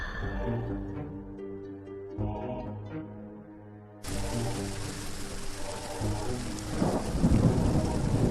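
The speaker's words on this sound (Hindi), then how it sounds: "वो रात बहुत बारिश हो रही थी।" Soft music fades into a sudden downpour of heavy rain, followed by a deep rumble of thunder rolling in near the end.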